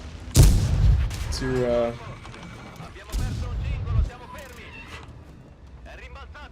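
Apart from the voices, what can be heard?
tank gun firing shots in World of Tanks video game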